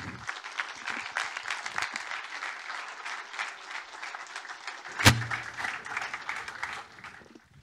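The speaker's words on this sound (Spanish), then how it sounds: "Un fuerte aplauso para ellos, le damos la bienvenida." Audience applause welcoming two speakers to a talk on code security in containers, steady and fairly dense clapping from a seated crowd throughout, with one sharp loud knock partway through.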